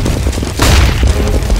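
A flashbang grenade in CS:GO goes off as one sharp, loud boom with a brief ringing tail, close and dominant over faint background game noise.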